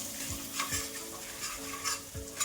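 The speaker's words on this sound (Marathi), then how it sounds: "आता हे सर्व पुन्हा आपल्याला परतून घ्यायचं आहे छान." Turmeric and coriander powder sautéing in a pan, a soft sizzle under close spoon strokes that scrape in an uneven rhythm, quiet and without talk.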